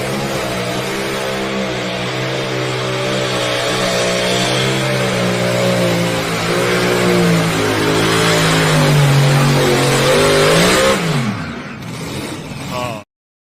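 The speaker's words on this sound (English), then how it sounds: "Those motors just out there singing." Grand National pulling vehicle engines rev hard and sustained during a pull, a loud, rising and falling mechanical roar that builds, then cuts off abruptly near the end.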